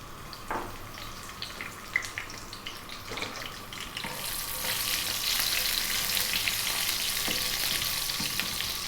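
Cumin seeds, fresh red chili and curry leaves hit hot coconut oil: scattered crackles and pops at first, then a dense, steady sizzle swells up midway and holds, close and clear.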